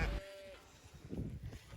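A sheep bleats near a farm gate, one short tonal cry followed by a brief pause, then rustling movement and low farmyard noise.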